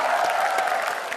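Applause from a studio audience at a televised talk show, a brief dense burst of clapping with some crowd noise.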